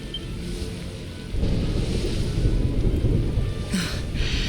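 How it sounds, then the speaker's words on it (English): Thunder in Dragon Quest XI S: a low rolling rumble swells in after a quieter stretch and sustains under a steady rain-like hiss, fairly loud and continuous. "Would you look at it thundering away out there?"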